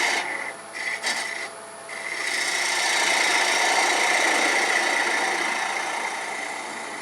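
A bowl gouge takes a light cut on a spinning wood tenon on a lathe, a steady close rasping hiss over the motor's hum, briefly interrupted early before settling into a continuous scrape.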